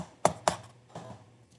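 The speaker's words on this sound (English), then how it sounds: "But except for the click of the keyboard" Clicking of a computer keyboard, a few sharp separate taps close together followed by softer clicks, heard alone in a quiet office.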